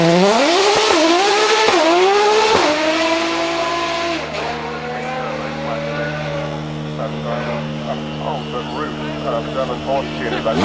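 A car with a flat-six engine revs and accelerates through the gears at the Goodwood Festival of Speed, its loud, close engine note climbing and shifting before settling into a steady drone, with a voice talking over it.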